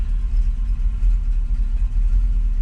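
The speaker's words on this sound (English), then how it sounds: "we're gonna let this idle for a few minutes, or a minute, let the oil circulate" A 1979 Chevrolet C3 Corvette with the L-82 V8 idles steadily after an oil change, a deep, even low rumble with a slight cam lope, close by and alone with no talking.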